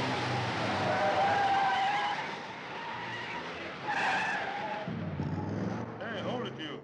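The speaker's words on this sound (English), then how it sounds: "But we get an exciting car race," Racing cars in a 1958 film race scene, with loud tire skidding and engine roar running throughout, surging near the middle, while voices talk over the action.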